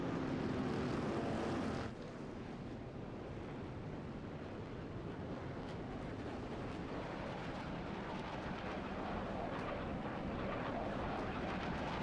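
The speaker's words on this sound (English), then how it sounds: "You hear the plane in the background." Airplane flying overhead at a motor race, the PEC European 24 Hours endurance event: a continuous, fairly loud broadband roar lasting about twelve seconds, with a shift in tone early on and no speech.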